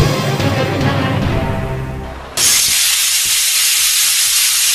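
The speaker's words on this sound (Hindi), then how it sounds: "अभी जो कुकर की सीटी बजी है" A loud, sustained hissing whistle of a pressure cooker's steam bursts in suddenly and continues steadily after a quieter, rumbling kitchen background.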